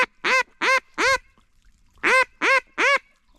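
Duck calls during a duck hunt: two bursts of three loud, nasal, evenly spaced quacks, close and clear, separated by a short silence.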